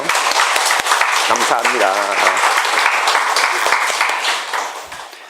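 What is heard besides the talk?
congregation applause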